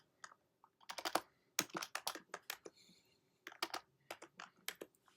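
Typing the name Kingston as a USB pen drive volume label on a computer keyboard: irregular bursts of crisp, close key clicks with short pauses between clusters, no talking.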